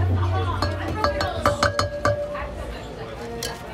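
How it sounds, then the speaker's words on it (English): Ladle clinking against a metal cauldron while ground botanicals are stirred in, a series of light, irregular taps and scrapes close by, with people talking around it. "Sprinkle ground botanicals in the cauldron, stirring 5 times clockwise with the ladle."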